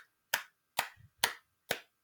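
People clap together to a steady march beat: four sharp, evenly spaced claps at a moderate tempo, clear and fairly close, with no talking.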